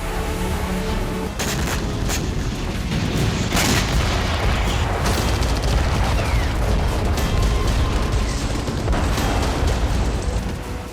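Heavy artillery shelling strikes Kherson during the Russia-Ukraine war, with repeated deep booms and blasts overlapping one another in a dense, continuous barrage and no voices over it.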